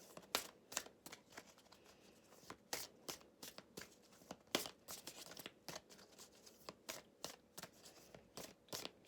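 Tarot cards are shuffled and drawn for a reading, producing rapid crisp flicks, snaps and papery rustles in an irregular stream, close and quiet with no talking.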